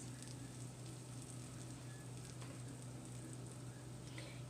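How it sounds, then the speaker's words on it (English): Butter sizzles faintly on top of biscuits, a soft continuous crackle over a steady low hum. "you could hear it sizzling just a little."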